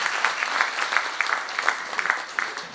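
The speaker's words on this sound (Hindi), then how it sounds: "तालियां कौन बजाएगा? आप बजाएंगे।" An audience at a talk on health and quality of life claps together, a moderately quiet, continuous applause with a faint rhythmic pulse of synchronized claps running throughout.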